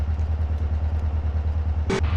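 A motorcycle idles in the game GTA, its engine pulsing in a low, steady, loud rhythm, with a short sharp clatter near the end.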